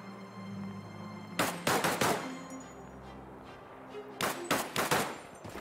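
A machine pistol firing in the WWII shooter Land of War, set in the 1939 German invasion of Poland, two clusters of quick, loud, clicked bursts separated by a quieter pause over a low ambient hum.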